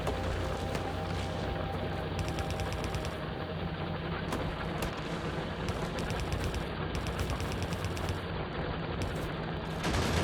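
In Factorio, gun turrets fire constantly at attacking enemies, a dense, loud stream of rapid automatic shots with bursts that stop and restart, continuous throughout with no speech.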